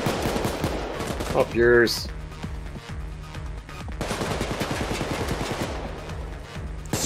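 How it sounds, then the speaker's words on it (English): Bursts of automatic gunfire rattle through a Payday 2 heist level, rapid and loud in clusters, with a voice briefly speaking over the shooting. "People are shooting me."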